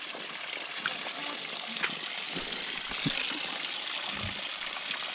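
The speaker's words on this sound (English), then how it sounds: "This is how to get running water." Running water trickles and gushes steadily from a pipe at a remote outdoor site, a continuous faint wash with a few small knocks and splashes.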